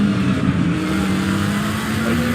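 GT3 race car engine in Assetto Corsa Competizione at Snetterton, a loud steady roar with a slowly rising pitch as the car pulls through a long right-hand corner.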